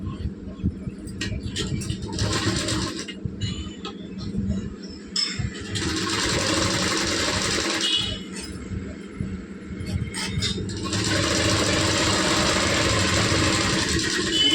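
A sewing machine stitching folded fabric runs in three steady mechanical bursts, up close, with quieter pauses between runs while the fabric is repositioned.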